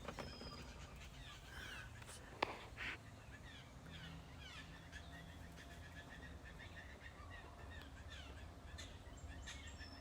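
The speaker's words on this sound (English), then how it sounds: "We have a bird party up here" Several birds call from overhead outdoors, scattered duck- or crow-like cries and chirps repeating across a steady low background rumble, mostly faint to moderate with one brief sharp sound near the start.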